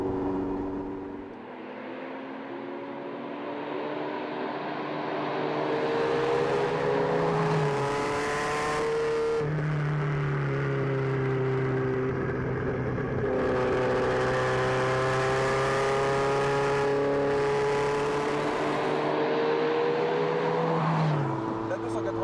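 A Ferrari GTO engine revving and pulling through the gears while driving, a strong tuneful howl that climbs in pitch, drops at each shift and climbs again, fairly distant and steady across the whole run.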